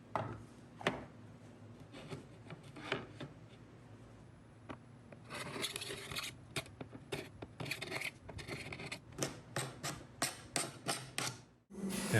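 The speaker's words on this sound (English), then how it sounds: "time to scrape the dry glue off" A scraper rasps dried glue from a wooden media stand of curly koa, curly maple and cherry, first in sparse strokes, then in quick rhythmic scrapes that grow louder and denser before stopping.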